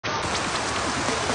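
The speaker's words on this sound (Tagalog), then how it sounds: "Ngayong panahon, makakaranas po tayo ng matinding tag-ulan." Heavy rain pouring steadily in a dense, continuous hiss, loud and close throughout, with no voices or thunder.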